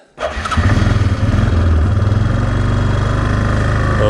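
A small ATV engine starts and settles into a loud, close, rapidly pulsing putter with the choke partly on, running steadily without pause despite not idling properly.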